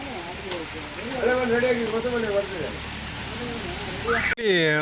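Steady rain falls in Koppa, Karnataka, a constant wash of hiss beneath a person talking nearby throughout.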